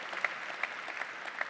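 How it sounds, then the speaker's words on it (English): Audience applause at a PES party political conference, a steady broadband clapping texture with no voices over it, fairly faint and moderately distant. "Let's applaud Iratxe and the entire political group in the European Parliament."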